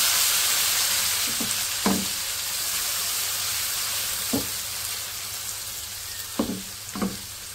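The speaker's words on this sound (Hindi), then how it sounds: "सबको हम हल्का सा फ्राई करेंगे, पहले खुशबू आ जाए प्यारी सी" Cinnamon, bay leaf and ginger garlic paste fry in hot oil for chole, giving a steady hissing sizzle with a few sharp spoon scrapes and clinks of stirring scattered through. It is close and unbroken by speech.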